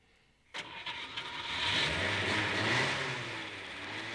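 Taxicab engine in city traffic, starting with a sharp crank and settling into a steady, fairly close mechanical rumble and whir that swells and holds, with no talk.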